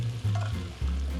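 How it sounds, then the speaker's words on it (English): Curry spices and garlic sizzle and fry in a pan while being stirred, a steady close hiss with low scraping shifts as the mixture is moved, no voices over it. "Now we can stir it. See, the aromas of the curry are coming out already."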